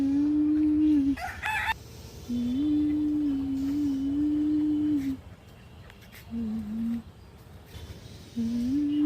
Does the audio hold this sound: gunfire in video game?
no